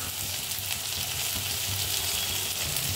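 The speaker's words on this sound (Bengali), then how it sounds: "পেঁয়াজ টমেটোটা একটু নরম করা অবধি ভেজে নেব" Onions sizzle in hot oil with green chilli, chilli powder, salt and turmeric, a steady close frying hiss with soft crackles running unbroken, no voices.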